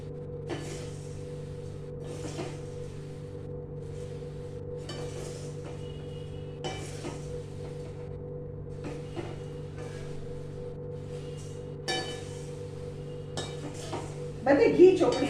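Mamra chevdo, a puffed rice snack, dry-roasts in a pan with ghee. A spoon stirs it in scattered clinks and scrapes over a steady low hum, and a busier burst of stirring comes at the end.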